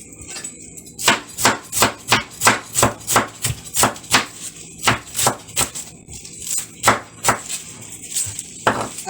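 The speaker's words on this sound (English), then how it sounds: "when you are slicing, you have to be careful of your fingers" A knife slices vegetables on a cutting board, striking in a fast, steady rhythm of roughly two dozen crisp chops. Each sharp knock rings out close and loud with brief pauses between runs, and there is no talking.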